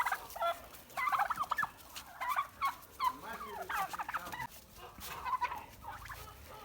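Crossbred Bronze and Bourbon turkeys gobble repeatedly and close by in rapid, warbling bursts, with several birds calling over one another among soft clucks and no talk.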